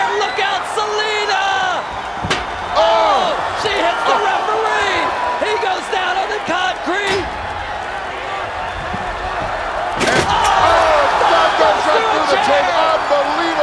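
A steel chair slams down during a women's wrestling match, a sharp crash cutting through a loud, continuous roar of cheering crowd while commentators talk over the action.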